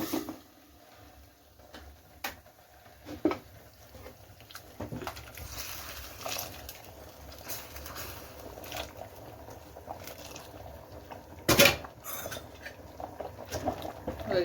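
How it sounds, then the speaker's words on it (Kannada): A lid shuts over a pot of freshly tempered spices for a fresh pigeon pea and mixed vegetable sambar, landing as one sharp clank near the end over faint, quiet kitchen background noise. "ಈ ರೀತಿ ಮುಚ್ಚಳನ ಕ್ಲೋಸ್ ಮಾಡ್ಕೊಳ್ಳೋಣ."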